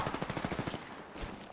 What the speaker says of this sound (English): I was trying to shoot my gun.